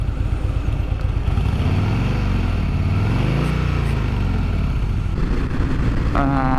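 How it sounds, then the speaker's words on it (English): A stock 2017 Harley-Davidson Fat Boy S engine rumbles loudly and continuously up close in a parking lot, its pitch swelling and falling as the throttle is revved, with a clatter near the end. "Another pro, the engine noise. I'll probably cut to me in a parking lot revving it here."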